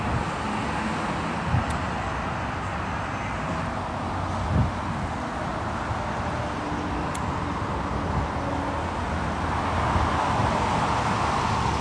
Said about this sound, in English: Yeah, it's a lot of cars right here.